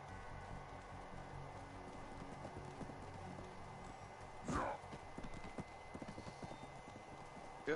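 Horse hooves clip-clopping at a steady gallop in the video game Black Desert Online, with a brief whinny midway over continuous game ambience.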